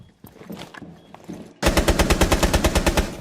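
Automatic gunfire in Rainbow Six Siege: faint footsteps and scuffling first, then a loud, close burst of about a dozen rapid, evenly spaced shots over the last second and a half.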